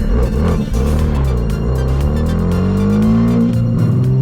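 A freshly rebuilt engine in a modern BMW M3 revs steadily while driving, its harmonic drone climbing in pitch and holding loud and close, with tire and road noise underneath and no talk.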